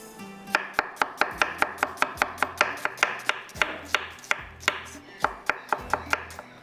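Onions sliced with a knife on a cutting board, a steady run of about two dozen crisp, evenly spaced chops, close and clear with no talk.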